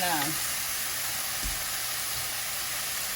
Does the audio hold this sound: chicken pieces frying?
yes